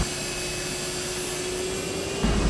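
A 1963 Chrysler Turbine car's gas turbine engine idles at about 20,000 rpm, giving a steady, loud jet-like whine and rush with a sustained high tone, heard up close with no talk.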